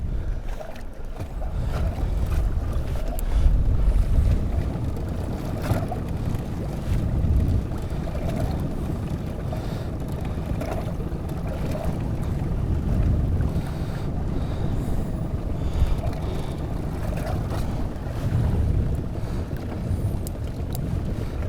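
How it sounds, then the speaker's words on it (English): Wind sweeps across a lake around a fishing boat on a walleye outing, a steady low buffeting with occasional gusts and faint knocks, and no talking. "the wind's kind of picked up and it's blowing some fish and bait into this point"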